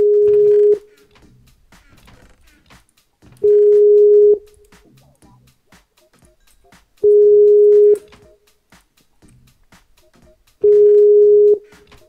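A phone call in a Minecraft session goes unanswered, with four loud, evenly spaced ringback tones, each under a second long, separated by quiet gaps with faint background sounds.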